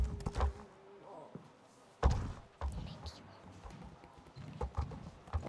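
Horse hooves clip-clop in the online horse-riding game Star Stable, a few hollow thudding steps at irregular intervals, fairly quiet, with players chatting over them.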